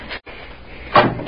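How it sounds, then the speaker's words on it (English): A door opens in an old-time radio drama of the science-fiction story Tunnel Under the World, a brief scraping creak near the end after a quiet pause, close and moderately loud. "Now, this door is open."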